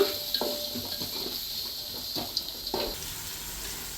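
Sliced onions fry in a pan for ghee rice, with a soft steady sizzle broken by several clinks and scrapes of a utensil stirring against the pan, fairly faint and close, with no talk.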